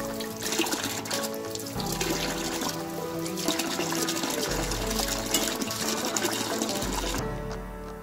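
A child plays with water at a running tap, the stream trickling and splashing steadily and close, with faint voices behind.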